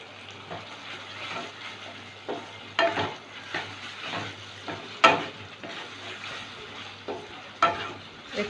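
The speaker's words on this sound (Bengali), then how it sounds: "একটু কষিয়ে নেব।" Potato pieces sautéing in a hot frying pan, with a steady low sizzle broken by repeated scraping stirs of a spatula, close and fairly quiet, with no talking.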